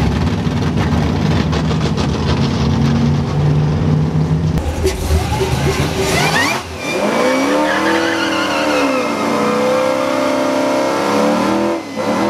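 Drag cars race on a no-prep airstrip, with loud, sustained engine roar that rises through the gears, sharp shifts and tire squeal, close and overpowering.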